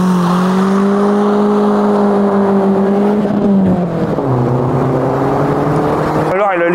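A Peugeot 206 S16 rally car roars past at speed, its loud engine note rising and then dropping as it goes by, followed by a second burst of revving near the end.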